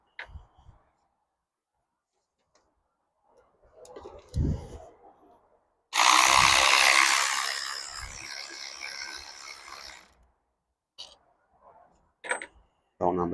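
Bolts on the thermostat housing of an Audi 2.0T FSI engine being loosened, heard as scattered clicks and a brief rattle, then a loud, sustained buzzing burst of about four seconds and a few sharp ticks afterward.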